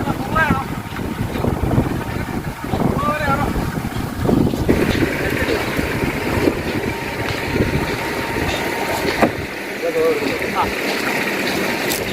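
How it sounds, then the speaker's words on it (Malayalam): A fishing boat's motor drones steadily throughout, joined by wind and water noise, with people talking over it now and then. "മോട്ടർ ഓടുന്ന സൗണ്ടൊക്കെ ഉണ്ട് കേട്ടോ"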